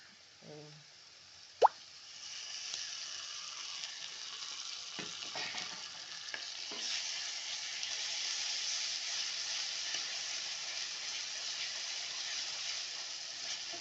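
Ginger, garlic, cinnamon and clove paste frying in hot oil for a stuffed brinjal gravy, with a sharp plop as it drops into the pan, then a steady, moderately loud sizzle that runs on alone, with occasional stirring clatters.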